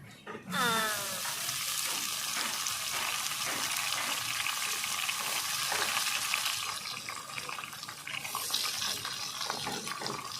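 Red potato greens are added to onions fried red in a village-style pan and stirred, and a loud, rushing, watery sizzle erupts and holds steady, with faint stirring underneath.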